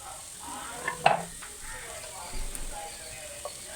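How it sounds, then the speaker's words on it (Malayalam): Chicken curry masala with chilli powder is sautéed in a pan, giving a soft sizzle with a few sharp clinks of a spoon scraping the pan, while a person talks over it. "ഇത് നന്നായിട്ട് വഴറ്റി എടുക്കാം"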